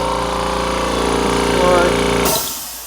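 A powder-coating shop air compressor drones loudly with a rapid mechanical pulse, then is switched off near the end, the running noise dropping abruptly to a quiet, fading hiss.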